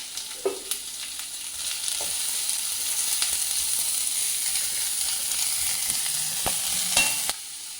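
Onion, ginger and green chili fry in a pan for coconut rice, a close, steady sizzle that stays even throughout, with a few sharp taps and clicks of the spoon scattered through it and no speech.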